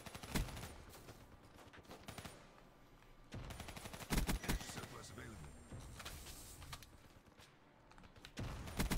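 Bursts of automatic gunfire in the Black Ops 3 shooter game crackle in repeated volleys across several seconds, with other game effects around them and a player talking over the action.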